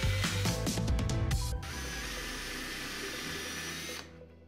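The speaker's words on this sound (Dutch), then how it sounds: "Boor voor totdat het tape het hout raakt." A power drill pre-drilling holes into wood, with tape on the bit marking depth, for a floating desk build. It whines steadily with bursty grinding early on, then runs smoothly until it stops near the end, close and alone.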